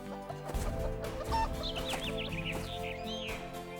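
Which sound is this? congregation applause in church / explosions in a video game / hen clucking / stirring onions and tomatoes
hen clucking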